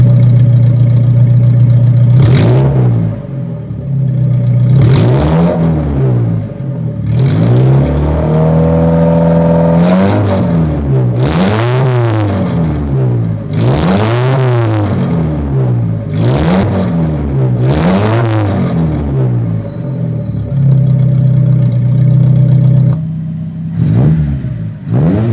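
A Fiat 147 engine with the exhaust cut-off valve open revs repeatedly from idle, each loud, raspy rise and fall coming close and clear, in a steady sequence of blips over about twenty-five seconds.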